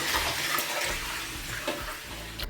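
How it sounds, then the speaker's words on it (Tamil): Water pours steadily into a vessel of washed rice set to soak, a close, continuous splashing rush lasting a couple of seconds with no voices. "இப்போ இதில் தண்ணியை ஊற்றி ஊற வச்சிடலாம்."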